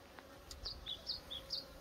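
Korean native honeybees around their hives, a faint steady hum broken by a few brief high buzzing passes close by, heard alone in a quiet outdoor setting.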